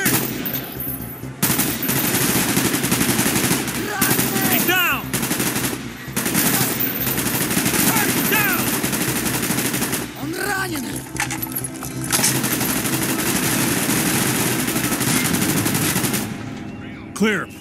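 Sustained bursts of video game machine gun fire in a Vietnam War 1968 helicopter scene roll on for the whole stretch, loud and continuous, with voices speaking and shouting over the shooting and explosions.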